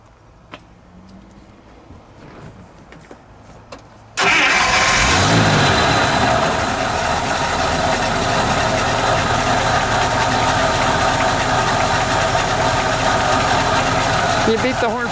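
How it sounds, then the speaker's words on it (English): A 1954 Buick Special engine cranks and catches abruptly, then settles into a loud, steady idle with a rough rumble, preceded by quieter background sounds and some voices. "Let's fire the engine, shall we?"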